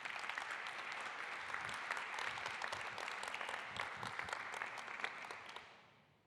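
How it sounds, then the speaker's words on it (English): Audience applause for a speaker from the Slovakian Railways at a talk on night train services, a dense, even patter of many hands clapping at moderate distance that fades away at the end. "Can you please give Karol a big round of applause?"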